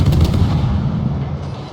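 Naval combat game with the Japanese destroyer Akizuki, its guns letting off a loud, close, rumbling salvo of rapid overlapping blasts that fades out quickly.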